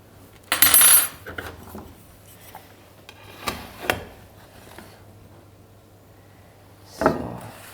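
Flatbread is flipped in a frying pan, making a few scattered scrapes and clatters of pan and utensil, with a louder burst early on and quiet gaps between.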